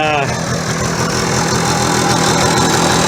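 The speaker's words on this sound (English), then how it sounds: "I'm gonna let it idle and warm up and get seated in before I do much more with it" A motorcycle engine idling and warming up after a cylinder head thread repair on a K11, a steady, loud, close mechanical drone with an even rhythmic pulse throughout.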